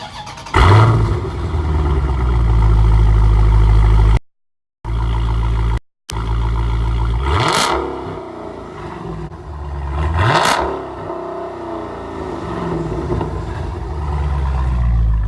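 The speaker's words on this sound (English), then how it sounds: "he got the full exhaust system all the way to the back, so that's what it's gonna sound like" A powerful muscle car with a full exhaust system idles with a deep loud rumble, then is revved sharply twice, each rev rising to a roaring peak before settling back.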